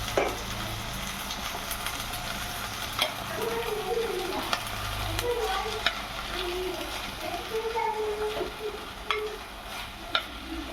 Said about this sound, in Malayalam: തക്കാളിയും കറിവേപ്പിലയും ആവശ്യത്തിന് ഉപ്പും ചേർത്ത് നന്നായി ഇളക്കിയെടുക്കുക.